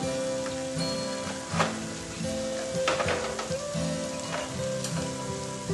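Ground coriander, red chilli, turmeric and garam masala sizzle steadily in hot oil while being stirred in a pressure cooker for beef biryani, with a continuous close crackle and occasional scrapes of the spoon.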